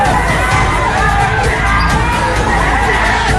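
In Hyderabad, a crowd of supporters clashing with police fills the air with a dense, continuous roar of shouting and yelling, loud and near throughout, with no single voice standing out.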